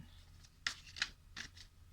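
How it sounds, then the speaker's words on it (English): Tarot cards are shuffled close by in a quiet room, producing three or four soft, crisp riffling bursts at a low level. "I like to shuffle until the cards fall out"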